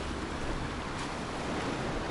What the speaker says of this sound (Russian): идет волна